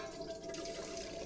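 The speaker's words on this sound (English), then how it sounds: "It's all filled up with water." Water filling a container in the video game The Silent Age, a faint steady trickling and dripping against a low hum, with no voices.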